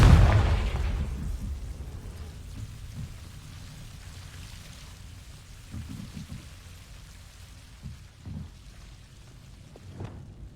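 A Confringo fire-spell blast in Hogwarts Legacy on PC: one sharp, booming burst at the start that decays into a low rumbling crackle, with a few faint thuds following.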